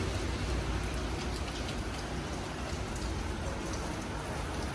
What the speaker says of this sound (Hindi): आप देख सकते हो, बारिश भी चालू है।